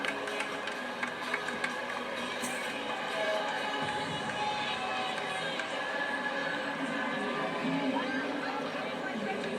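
A sellout crowd of over 13,000 at an LSU gymnastics meet in the PMAC arena fills the space with a dense, constant roar of chatter and murmur, with a commentator talking over it.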